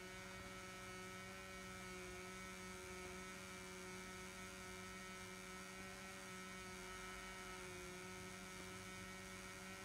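A small electric motor runs steadily on a homemade foam manganese dioxide battery cell, giving a constant low hum with a faint whine, close and unbroken throughout with no talking.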